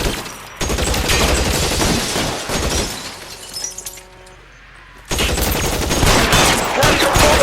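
Rapid bursts of gunfire in a shootout in the video game L.A. Noire, loud and close, with breaking glass, a brief lull around the middle, then more heavy firing.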